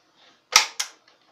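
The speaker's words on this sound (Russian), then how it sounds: "Откидной приклад откидывается" A plastic toy MP-40 air gun's folding stock snaps into place with two sharp, close clicks in quick succession, followed by a faint tap, in a quiet room.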